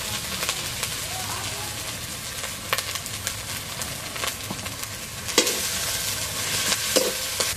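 Garlic sizzles and fries in a pan with spices for a Bengali-style chicken curry, a steady crackle with stirring scrapes and occasional louder clinks, running continuously throughout.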